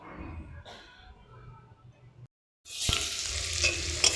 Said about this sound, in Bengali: তো দেখো বন্ধুরা, উচ্ছে আলু ভাজাটা বসিয়ে দিয়েছি